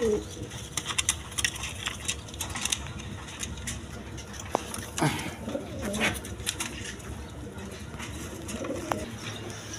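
Lotan pigeons coo softly among other pigeons at a Bangladeshi bird market, low throaty calls repeating under a busy background of rustling, ticks and distant voices.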